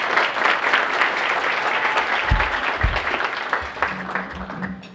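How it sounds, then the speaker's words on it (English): A room of guests at a chamber of commerce luncheon breaks into sustained applause with close, crisp claps. It stays loud, then thins slightly toward the end, with a few low thumps mixed in. "I also want to give a nice round of applause for the STI staff here, Rhonda, and Clint Cannon."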